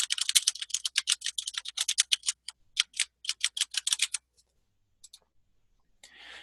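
Rapid clicks of someone typing an email address on a computer keyboard at a login page, a dense burst of keystrokes for about four seconds, then a few isolated taps and a soft rustle.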